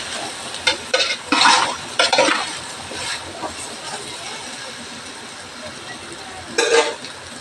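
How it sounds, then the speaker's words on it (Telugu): Okra fries in two spoons of oil in a pan, a sizzling hiss broken by several scraping stirs of a spoon against the pan, with a voice talking between the stirs. "2 స్పూన్ల ఆయిల్ వేసి బెండకాయలు దోరగా వేయించుకోవాలి"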